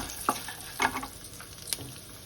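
Green chilies, dried red chilies, mustard seeds and cumin frying in hot oil, a soft steady sizzle broken by a few sharp spatula clicks and stirs, close and fairly quiet with no talking.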